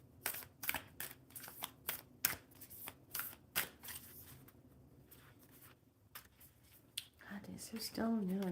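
Lemurian oracle cards are shuffled by hand in a quiet room, a series of soft, quick riffling bursts close by, followed by a person starting to talk at the end.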